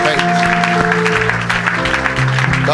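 A church congregation applauds and cheers for Jesus during a gospel service, loud clapping and shouts with musical tones sustained underneath.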